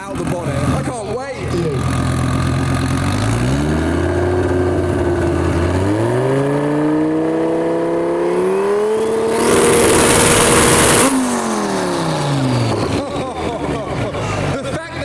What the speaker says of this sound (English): It's the Focus, but I'm seeing screamer pipes, I'm hearing power. That's the exhaust and the wastegate there, out the bonnet.